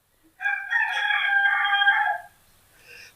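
A rooster gives one loud, clear cock-a-doodle-doo crow close by in otherwise quiet surroundings, followed by a faint trailing note.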